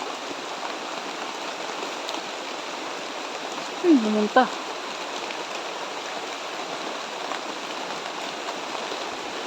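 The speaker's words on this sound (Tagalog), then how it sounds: "Umuulan. Lakas ng ulan. Nabutan tayo ng ulan." Heavy rain falls steadily outdoors near a banana tree, a constant broadband hiss throughout with a brief spoken exclamation in the middle.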